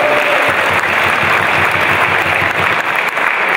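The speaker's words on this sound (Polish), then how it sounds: "Wielki brawo." A crowd applauds warmly at a speedway team presentation for KS ROW Rybnik, steady, loud clapping that fills the whole moment without pause.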